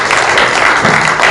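Audience applause rings out in a Seoul press-center hall after a professor's keynote at a political debate forum, a dense, steady clatter of many hands clapping throughout, close and loud, with no voices over it.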